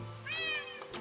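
A cat meows once in Minecraft, a single clear rising-and-falling mew about half a second long, close and alone.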